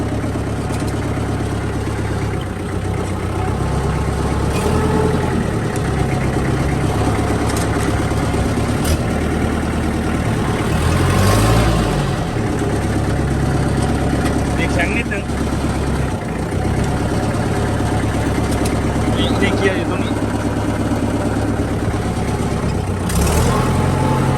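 A stock Kubota M5000 tractor engine runs steadily throughout, a continuous low diesel drone with someone talking over it.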